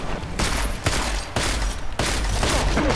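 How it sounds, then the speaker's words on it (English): Rapid gunfire in Deus Ex: Mankind Divided: loud, dense bursts of shots in several volleys separated by short breaks, close and harsh with no talk. "I shot that dude like 12 times."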